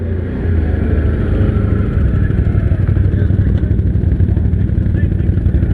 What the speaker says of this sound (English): It's a nice, smooth running bike.